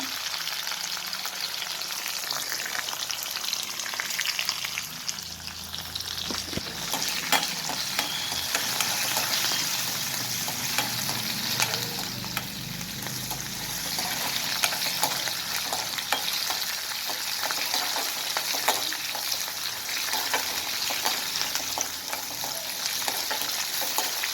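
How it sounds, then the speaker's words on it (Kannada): Onion and garlic frying in oil, a continuous close sizzle with crackling pops and occasional stirring scrapes, no voices. "ಈರುಳ್ಳಿ ಬೆಳ್ಳುಳ್ಳಿ ಹಾಕಿ ಚೆನ್ನಾಗಿ ಕಲಿಸ್ಬೇಕು. ಎಣ್ಣೆಯಲ್ಲಿ ಫ್ರೈ ಆಗಬೇಕು."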